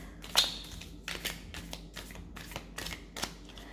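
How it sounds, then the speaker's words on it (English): Cards being shuffled up close, a series of quick riffling bursts and soft snaps in an otherwise quiet room. "it takes a lot of practice to shuffle this deck"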